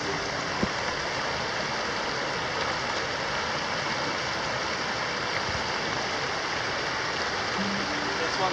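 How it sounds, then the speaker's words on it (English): A river rushes steadily at a trail crossing in the Dolly Sods Wilderness, a broad, continuous wash of flowing water close by that fills the whole stretch without pause. "we have another river crossing here"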